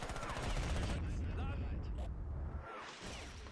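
Machine gun fire rattles in dense bursts amid distant explosions and whooshes in the Real Warfare battle game on a cold Eastern Front trench line, loud and continuous before easing off.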